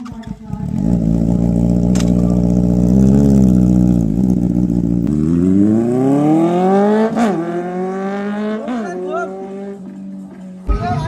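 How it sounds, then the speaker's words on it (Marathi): A motorbike engine revs close by with a loud, droning tone that holds steady, then climbs and wavers through several throttle surges before dropping away at the end. "नुसता आता आवाज आहे का गाडीचा?"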